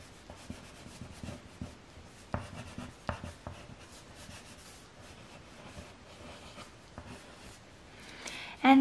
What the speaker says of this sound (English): So I'll just use a black wax crayon to shade that and shade up some other details.